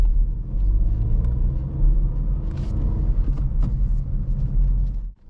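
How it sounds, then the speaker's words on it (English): A manual car's engine rumbles and pulls steadily as the clutch is raised gently to accelerate, a loud continuous low drone heard from inside the car that drops away sharply near the end. "More gas, and raise the clutch gently to accelerate."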